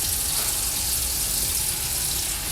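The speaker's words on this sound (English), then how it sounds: "I do want to add some water inside right here." Water pours steadily into a Samshow electric lunch box food warmer, a continuous close gushing splash like a tap stream that runs at even loudness throughout, with no talking.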